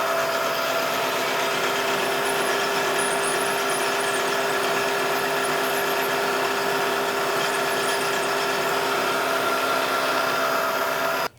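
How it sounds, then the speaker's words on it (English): Tapered reamer enlarging a hole in a machined arbor for a spindle sander, a steady continuous whirring drone with a constant tone throughout, close and even, with no talk. "Now I've just got a reamer here, tapered reamer. And we'll ream it out to size."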